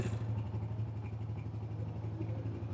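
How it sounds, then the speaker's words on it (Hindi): A 2021 Honda 125 motorcycle engine idling, a steady low thumping throb with mechanical clatter, heard close and alone. "अच्छी डुगडुगी बज रही इसकी, अच्छे साउंड में इंजन बोल रहा है"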